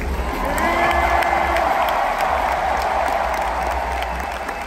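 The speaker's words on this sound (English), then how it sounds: "Another round of applause here for Paper Rex." A large arena crowd at the Kia Forum in Los Angeles applauds and cheers Paper Rex at the Valorant Champions 2023 final, a broad, even roar of clapping with scattered shouts.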